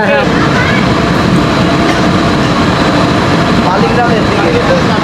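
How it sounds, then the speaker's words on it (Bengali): The Abhijatri commuter train runs in a loud, continuous rumble of wheels and carriages, with faint metallic squeals rising briefly at the start and near the end, and no voices. "আর এই হচ্ছে অভিযাত্রী কমিউটার ট্রেন"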